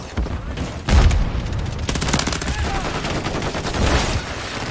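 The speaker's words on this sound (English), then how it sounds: "M1 is shooting." M1 rifle fire in a shooter video game: a heavy close shot, then a quick volley of cracks and a few more reports, over a steady background din.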